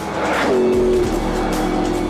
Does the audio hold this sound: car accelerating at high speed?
yes